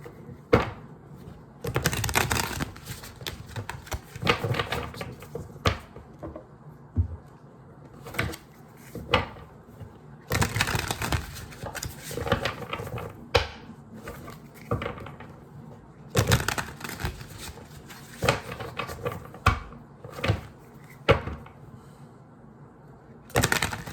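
Repeated bursts of papery shuffling and riffling as a deck of tarot cards is shuffled, loud and close, coming in irregular waves with brief pauses between them, no talking.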